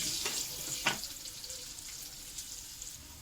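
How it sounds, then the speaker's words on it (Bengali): Potatoes tossed with turmeric fry in a pan, a soft steady sizzle broken by a few quick stirring scrapes, close and fairly quiet. "তো আলু পরিমাণের মতন একটু হলুদ দিয়ে দেওয়া হলো, দিয়ে আমি নেড়ে চেড়ে লাল করে ভাজবো।"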